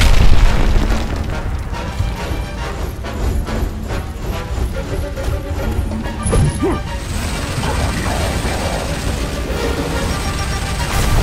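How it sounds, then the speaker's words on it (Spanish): Grenade explosion in the video game Gears of War, a heavy boom opening a dense, continuous roar of battle noise with mechanical clatter and faint voices underneath. "¡Lanzando granada!"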